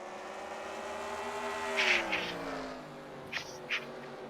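Race car engines in an Amazon Cup Series racing video game, a loud sustained whine with pitch slowly shifting as cars jostle for position, with brief sharper bursts of nearby engines passing.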